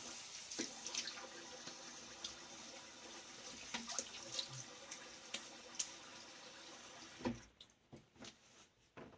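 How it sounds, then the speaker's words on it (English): Tap water running into a bathroom sink while a face is rinsed after shaving, a soft continuous splash with small splatters close by, cutting off near the end, leaving a few faint drips. "Let me rinse my face."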